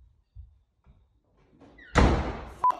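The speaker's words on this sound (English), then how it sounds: "Slam your parents' door and see how they react." A door slammed shut in a home, preceded by a few soft footsteps or knocks, then one loud hard bang with a brief resonant tail and a short thump right after.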